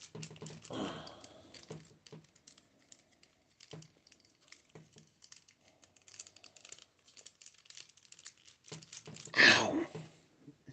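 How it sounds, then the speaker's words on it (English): Plastic parts of a Transformers Soundwave figure clicking and snapping into place as it is handled, with scattered small clicks, rustles and a louder crinkling snap near the end, close and sparse. "Clickety click back into place."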